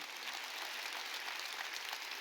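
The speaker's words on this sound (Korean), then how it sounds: "믿으면 박수라" Congregation applause at a Korean church Sunday thanksgiving service, a soft, distant, sustained wash of many hands clapping with no talking over it.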